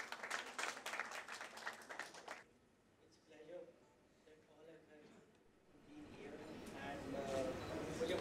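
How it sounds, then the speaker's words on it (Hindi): Audience at a press conference for a fashion show at a birthday party claps in a dense burst for about two seconds, then voices and chatter take over, with a softer crowd murmur building toward the end. "एक बार तालियां बजा दीजिए।"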